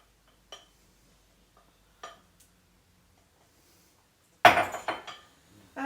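A spatula scrapes beaten egg down the sides of a dish, opening with a few faint, sparse taps before a louder, close burst of scraping and clinking near the end.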